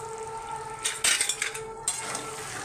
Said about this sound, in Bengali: দিয়ে আমি আবার নেড়ে নেবো মাংসটাকে।